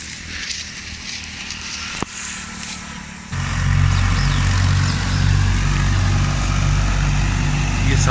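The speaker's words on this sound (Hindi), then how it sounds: "ये है गाजी ट्रैक्टर और ये है थ्रेशर" A Ghazi tractor driving a wheat thresher separating grain from straw, heard as a steady loud mechanical roar with a rhythmic low throb that swells after a brief thump, continuous throughout.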